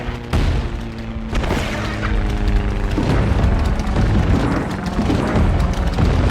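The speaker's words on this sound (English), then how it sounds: "Torpedo, running clean! That's a hit." A torpedo strikes a submarine in the Coral Sea battle of the WWII flight game Heroes of the Pacific, a heavy booming blast followed by a sustained low rumbling roar of debris and fire.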